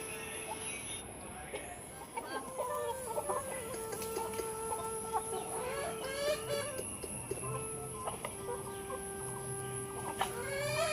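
A domestic hen clucks in short, repeated calls close by, mixed with other chicken sounds and voices talking nearby in the background.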